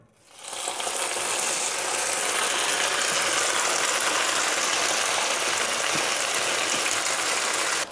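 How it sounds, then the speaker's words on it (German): Macaroni and cheese frying in a coated pan, a broad, steady sizzle that rises quickly at the start and holds evenly throughout, close and loud with no talking. "Und da drin werde ich die jetzt eben ein bisschen anbraten"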